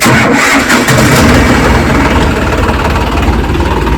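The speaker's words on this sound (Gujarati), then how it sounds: "હવે આપણે ટ્રેક્ટર ચાલુ કરીને શેડવાનું ચાલુ કરો" A diesel tractor engine cranks and catches on a farm, then settles into a loud, steady chugging idle.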